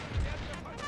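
Infantry musket volley in a Total War battle set in the Thirty Years' War, a brief crackling burst of shots with a low thump, heard under faint talk.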